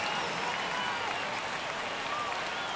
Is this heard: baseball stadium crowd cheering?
yes